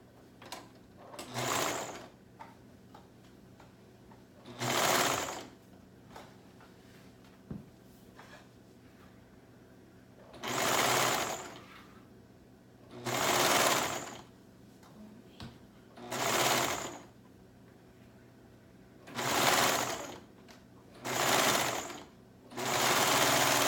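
A sewing machine stitches three layers of fabric together in repeated loud, close bursts of a few seconds each, with quiet pauses between runs.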